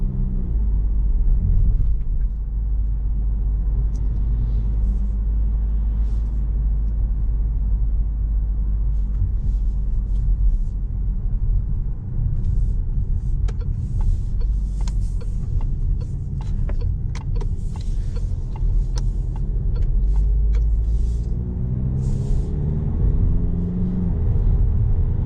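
A Peugeot 3008 GT Line cruises along a country road, its cabin filled with a steady low rumble of engine and tyre noise throughout, with occasional faint clicks and ticks inside the car.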